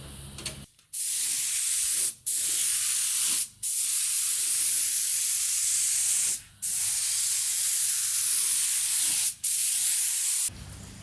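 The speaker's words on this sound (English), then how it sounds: "So now I'll spray some etch primer on it as a guide coat" Etch primer sprays from an aerosol can onto the bonnet of a Toyota Landcruiser 200 Series, giving loud, close hissing bursts with several brief pauses between passes.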